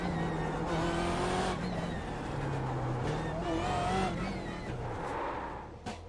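A race car in a sim racing video game slows and pulls into the pits, its engine droning and shifting pitch with whining revs, while a person talks over it.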